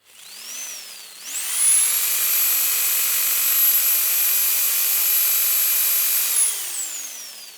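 An electric beet and fodder cutter powered through an inverter spins up with a rising whine, holds a loud steady high-pitched motor hum with strong tonal overtones, then winds down near the end, close and with no talk.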